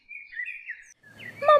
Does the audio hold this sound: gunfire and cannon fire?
no